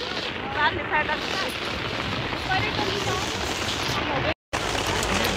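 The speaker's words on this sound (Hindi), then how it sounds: "तूफान आ रहा है बहुत ज़्यादा बारिश हो रही है" Heavy rain with hail pours down steadily during a storm, a dense, close wash of hiss that barely lets up, with brief faint voice-like sounds early on and one abrupt cut to silence near the end.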